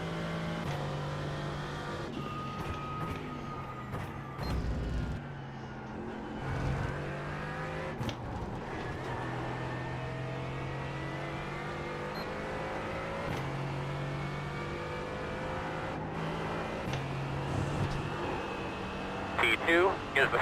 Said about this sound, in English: T2 is the fastest car on the racetrack.